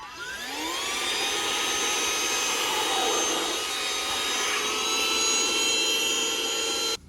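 A small handheld vacuum cleaner in a Tesla Model 3 whines continuously, close and loud, its pitch rising as it spins up, then running steadily before shutting off.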